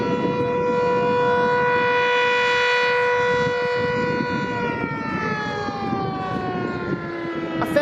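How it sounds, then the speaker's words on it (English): An outdoor civil defense siren mounted atop a silo wails an alert tone in a long, sustained note that slowly falls in pitch, loud and steady, with faint background noise beneath it. "The siren's on top of that silo."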